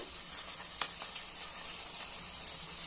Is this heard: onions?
yes